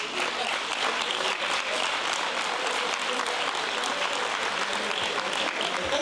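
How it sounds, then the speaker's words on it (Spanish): Conference audience in Mendoza applauding steadily throughout, a dense, sustained wash of many hands clapping at even loudness with no pauses. "¿Están aplaudiendo a Carol o a mí?"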